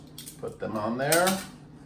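Metal canning lids set onto filled jars of green chile and tomatoes, giving a few light clinks and clatters of thin metal against glass, close and brief.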